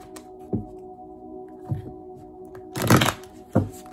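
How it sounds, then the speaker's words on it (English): Oracle cards are shuffled by hand in a few short, crisp bursts, soft riffling and slapping noises spaced irregularly, with one longer flurry near the end, close and fairly quiet. "Let me give y'all one good shuffle for Sagittarius"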